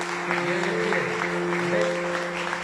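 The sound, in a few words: applause for the Eternal King in church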